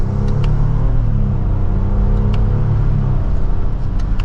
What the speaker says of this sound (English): Twin turbo V6 has a good exhaust note to it